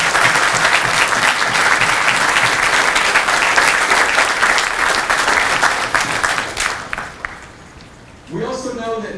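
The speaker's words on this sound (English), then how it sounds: "join me in a round of applause for the families of Lima Company" Sustained applause fills a Marine Corps Lima Company graduation ceremony hall, dense and loud, then tapers off until a voice begins speaking over a microphone near the end.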